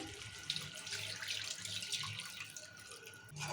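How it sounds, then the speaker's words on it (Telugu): Water pours steadily into a pan of chicken curry close by, a continuous splashing stream with a faint hum underneath and no voices. "ఇప్పుడు ఈ నీరు పోసుకుందాము"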